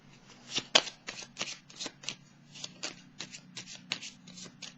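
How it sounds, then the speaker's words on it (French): Tarot cards being shuffled by hand, a rapid series of crisp riffling flicks and soft slaps at an uneven rhythm, close up and clear with no voice over them. "Je vais piger une carte pour elle"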